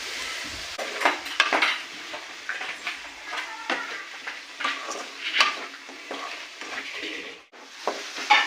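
Vegetables seasoned with salt and pepper fry in a pan, giving a soft, steady sizzle broken by repeated scraping and stirring strokes of a utensil against the pan.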